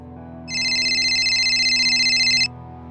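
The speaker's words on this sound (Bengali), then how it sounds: "ফোনটা বেজে উঠল।" A mobile phone ringtone plays as a loud, steady electronic warble for about two seconds, then stops, heard close over a low background hum with no speech.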